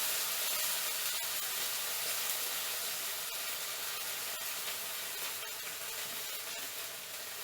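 Steady loud hiss of passata hitting a hot pan while cooking a vegetable gumbo, continuous broadband sizzle with occasional faint pops, close and alone.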